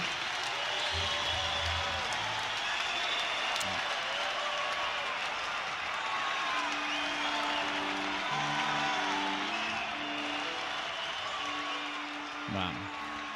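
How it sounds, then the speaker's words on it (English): Sustained applause from a live concert audience after a performance, a dense steady roar of clapping and cheering that holds for the whole stretch, with faint voices and whistles mixed in. "30 seconds of applause"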